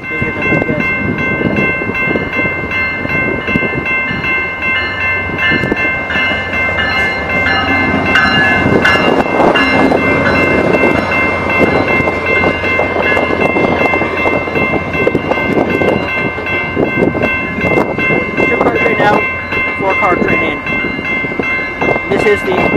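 A four-car Rail Runner passenger train rumbles past nearby with a continuous roar and rhythmic rail clatter, loud throughout, with some voices audible under the noise.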